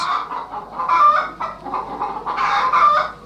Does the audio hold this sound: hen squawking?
yes